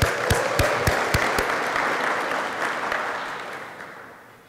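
Audience applause for award winners at a university lecture, a full round of clapping with a few sharp distinct claps up front, tapering off toward the end.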